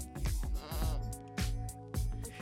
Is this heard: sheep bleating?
yes